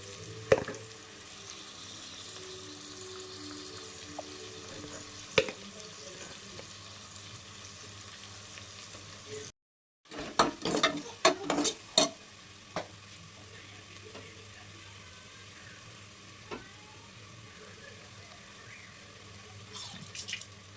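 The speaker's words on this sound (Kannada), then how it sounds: "ಶುಂಠಿ ಬೆಳ್ಳುಳ್ಳಿ ಪೇಸ್ಟ್ ಹಾಕ್ತಾಯಿದ್ದೀನಿ." Ginger garlic paste frying and being stirred in a pan, with a steady low sizzle, scattered scraping clicks and a brief burst of stirring noise midway, no talking.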